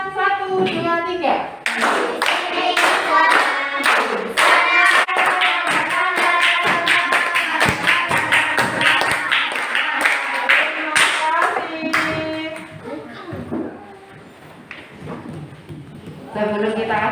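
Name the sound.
clapping hands while singing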